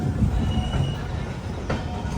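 Express sleeper train on the Thoothukudi to Mysuru route braking after an emergency chain pull, its wheels grinding with a steady metallic rumble and a thin high squeal running throughout, close and loud.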